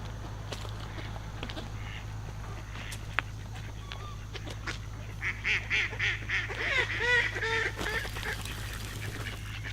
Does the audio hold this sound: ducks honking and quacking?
yes